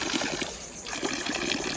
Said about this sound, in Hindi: ये देखो ऐसे पानी भरते थे हम